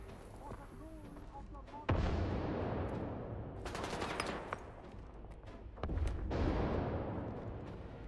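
Grenade blast in the video game S.T.A.L.K.E.R. 2: a sudden loud, deep boom with a long rumbling tail, followed by further heavy bursts and crackling rumble, no talking.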